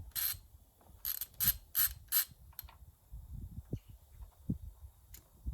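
Ratchet wrench clicking in short bursts while a crank position sensor is removed from a high-compression Honda CRX engine, several quick ratcheting runs close up, then scattered light clanks of tool and metal.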